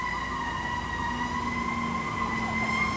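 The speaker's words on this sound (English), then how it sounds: "got some fire engines" Fire engine sirens wail steadily from passing trucks on a late-1980s street, sustained rising and falling tones over a low engine rumble, fairly loud and continuous.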